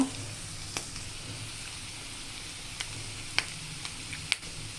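Ingredients for carrot curry frying in a pan, a quiet steady sizzle with a few sharp pops and crackles standing out here and there.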